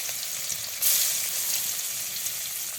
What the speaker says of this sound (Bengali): তেল গরম হয়ে গেছে এবং মাছগুলো দিচ্ছে